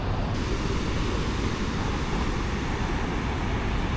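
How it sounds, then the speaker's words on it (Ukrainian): Sea waves and surf rush in a continuous broad roar, loud and close, with wind buffeting the microphone throughout and no voices. "Така чималенька сьогодні хвиля на морі"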